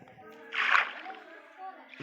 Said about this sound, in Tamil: தண்ணியில் குதிங்க ப்ரோ.